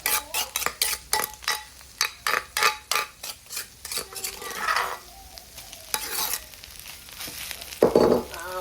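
Stir-frying in a little oil in a pan, heard as rapid rhythmic scraping strokes of a utensil against the metal over a light sizzle, close and clear, loosening into irregular stirs and clatters.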